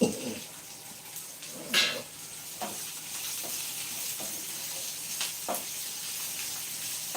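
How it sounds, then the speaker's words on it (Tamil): Grated coconut sautéing in a pan for a Thirunelveli-style coriander thuvaiyal, a steady soft sizzle with a few scattered stir scrapes and clinks, no talk. "தேங்காவையும் போட்டு நான் வதக்கிக்கிறேன்"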